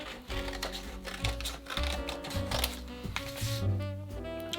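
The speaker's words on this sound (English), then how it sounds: "So let's cut out the heart shape first of all." Scissors cut a heart shape out of paper for a Swedish woven heart basket, producing close, rapid snipping and rustling paper crinkles over a faint background hum.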